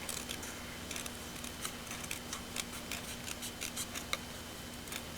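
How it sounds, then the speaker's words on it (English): Scissors snip steadily through a stamped paper flower image for a card, a rapid series of crisp cuts, close and fairly quiet, with a faint steady hum underneath and no talking. "I'm just gonna fussy cut this really quick"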